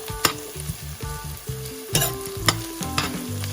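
Onions and thyme sizzle in a pot for ackee and saltfish, a bright continuous frying crackle broken by repeated spoon scrapes and clinks as the mix is stirred.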